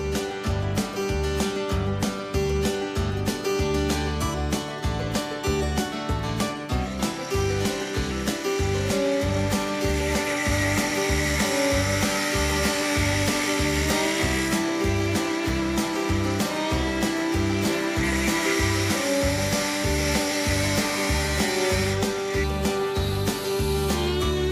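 A power tool cuts steel for a Triumph TR250 lower trunk patch panel, making a loud continuous whine with a rapid pulsing chatter that holds steady for the whole stretch, close by with no talking.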